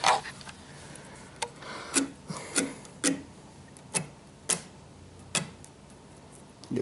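A match is struck again and again on an abrasive surface: about ten short, dry scrapes at uneven intervals, close and fairly quiet, with no voice.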